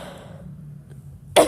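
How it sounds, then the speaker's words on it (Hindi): A single sudden cough bursts out near the end after quiet room tone, loud and close, during a devotional satsang gathering. "पता नहीं क्यों खांसी आने लगा"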